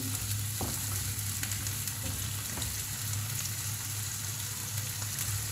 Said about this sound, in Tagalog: habang naluluto na itong ating kamatis at sibuyas, nilagyan ko na rin siya ng pampalasa